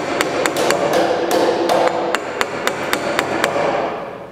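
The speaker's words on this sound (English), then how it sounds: "Chisel this material right out." A chisel cuts out leftover wood from a sawn cross beam corner. Crisp, close, evenly spaced striking taps repeat over a continuous scraping hiss.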